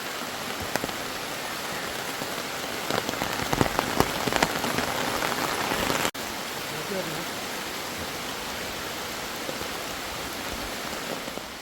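Heavy rain pours steadily through the forest of Parambikulam Tiger Reserve during a stormy monsoon trek, a dense close hiss of drops on leaves and surfaces with a few louder splatters.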